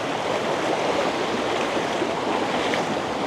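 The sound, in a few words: river water flowing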